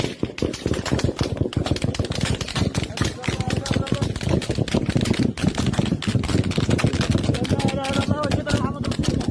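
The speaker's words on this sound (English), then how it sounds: "Gunshots are heard for a full 5 minutes on the video." Rapid bursts of gunfire crackle densely and continuously, overlapping shots in fast succession, with voices talking beneath the shooting.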